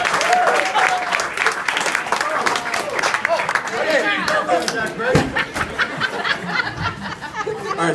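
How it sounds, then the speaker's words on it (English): An audience at a roast applauds, with sustained clapping throughout, some chuckles and scattered chatter, and a loud hit of clapping just after five seconds. "let's give him a big round of applause"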